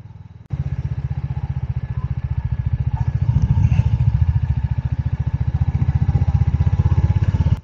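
A Royal Enfield Hunter 350 single-cylinder engine starts up and thumps at a steady, close idle with a regular loping beat, slight rev rises and faint irregular exhaust pops.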